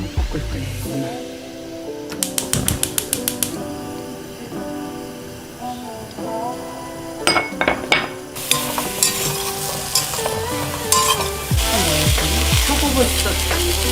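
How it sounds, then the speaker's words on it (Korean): Vegetables, including shiitake mushrooms, stir-frying in perilla oil in a pan, with a steady sizzle and intermittent clattering stirs and scrapes, close by and building louder toward the end. "뭐 넣을 거 없으니까 들기름 많이 볶을 거예요, 오늘."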